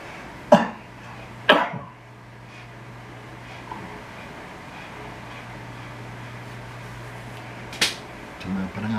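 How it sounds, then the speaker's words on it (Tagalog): Several sharp, close coughs and throat clears from one person, spaced out with short quiet gaps and a low steady hum in the background. "Tama pa ng aking ubo ha."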